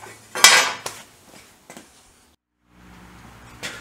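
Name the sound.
oil tank being fitted onto a Triumph 500 Otter motorcycle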